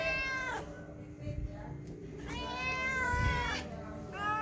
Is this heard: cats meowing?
yes